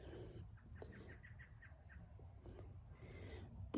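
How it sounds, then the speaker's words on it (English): Birds sing outdoors, several short chirps and a thin whistled note repeating lightly over a quiet background, fairly faint and distant. "And the birds are singing, and then they agree with me, I think."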